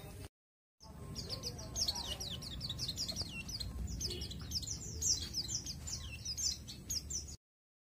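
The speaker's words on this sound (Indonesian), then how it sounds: "Jadi bunyi sapaan itu contohnya seperti ini." Greeting call of a pleci (white-eye), rapid runs of thin, high chirps and twittering notes repeated almost continuously, faint and close, over a low background rumble, cut off abruptly at both ends.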